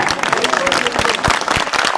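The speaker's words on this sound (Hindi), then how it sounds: "ताली हल्की नहीं है," At a political event in Delhi announcing a Chhath ghat, a crowd claps in a dense, steady patter of applause, fairly loud and close, with no break.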